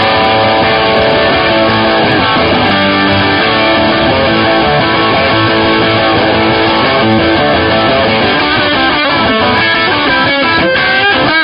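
Overdriven electric guitar plays through a Marshall JMD:1 amp's JVM crunch-channel red-mode preset, a loud, dense, continuous riff with rhythmic chugging and bright harmonic chords toward the end.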